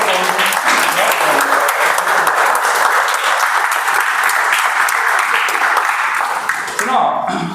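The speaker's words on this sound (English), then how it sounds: "let's have a huge round of applause for all the" A gathered audience at a Toastmasters club's 175th meeting celebration gives a loud, sustained round of applause, dense steady clapping throughout that tapers slightly at the very end.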